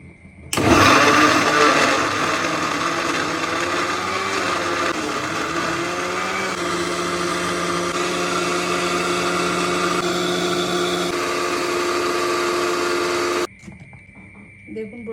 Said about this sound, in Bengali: এখন এটা ব্লেন্ডার করে নেব।